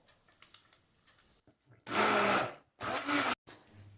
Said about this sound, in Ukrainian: І збиваємо блендером, щоб став такий білий колір.